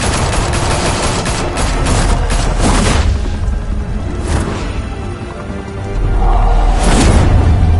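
Sustained gunfire in the Batman Telltale Series video game, a dense fusillade of automatic shots and booms that runs loud and continuous throughout, with brief swells and a heavy low rumble near the end.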